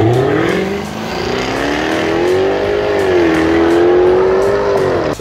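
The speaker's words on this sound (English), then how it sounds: "let's rev this beast now, the V8, let's hear that" A powerful supercharged V8 engine revs up loudly nearby, its pitch rising, holding and dipping in a long, rumbling swell.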